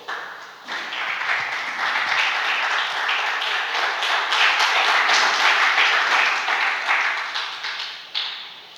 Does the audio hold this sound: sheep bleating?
no